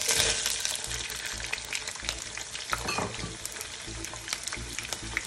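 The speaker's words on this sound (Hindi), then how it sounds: "ऑयल डाल देंगे, और उसके बाद ऑनियन शामिल कर दूंगा इसके अंदर" Onion frying in hot oil in a pan for an Arabian parda biryani, a dense steady sizzle and crackle close by, with bursts of stirring scrapes over it.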